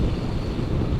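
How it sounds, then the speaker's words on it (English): Wind buffets the rider of a Kawasaki H2 SX SE motorcycle at highway speed in a 20 to 30 mph wind, a brief, steady, rough roar of loud, close wind noise with no voices. "We have about a 20 to 30 mile an hour wind"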